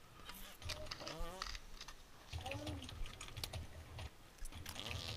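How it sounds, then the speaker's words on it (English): Rapid clicking of keys on a computer keyboard during an online game, steady and close, running under intermittent voices. "There she goes with that keyboard."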